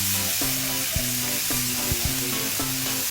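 Ipon (goby fry) sizzle in melted butter and garlic in a pan, a steady close frying crackle with a few scraping stirs and taps, no voices.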